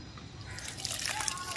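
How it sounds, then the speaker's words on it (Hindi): Water pours into a plastic container holding cooked rice, a steady splashing trickle that builds to a brighter, fuller gush near the end. "इस प्रकार से हम पानी डाल देंगे"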